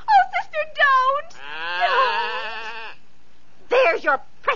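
Goat bleats voiced for a radio drama: several wavering, nasal bleats, one long drawn-out cry in the middle and a final cluster, loud and close, with no talk over them.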